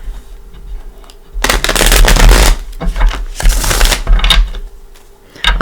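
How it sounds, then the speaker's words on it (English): A deck of tarot cards is shuffled in two loud, close bursts of rapid riffling and flapping, each lasting about a second, separated by a brief pause. "let me give this a couple of shuffles. Get everything mixed in"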